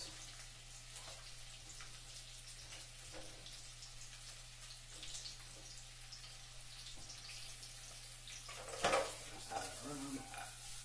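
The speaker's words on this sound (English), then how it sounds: "Basically, it's like sauteing. You want high heat, fast movement," Mixed vegetables stir-frying over high heat in a pan, a faint steady sizzle with occasional scraping and stirring, and a brief louder clatter near the end.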